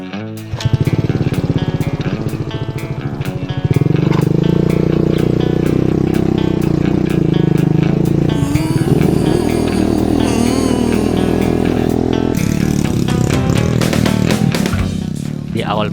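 Motorcycle ridden on a village road to Bela Kopiang, with a close, loud, continuous engine drone that rises and shifts in pitch as it accelerates and changes gear, plus some road clatter and wind.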